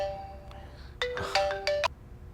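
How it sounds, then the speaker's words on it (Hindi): A phone ringtone plays in a bollywood-style film scene, a short bright electronic melody of several rising tones in quick bursts, moderately loud over a faint background hum, with no voices. "इस टाइम पे क्यों फोन कर रहा है?"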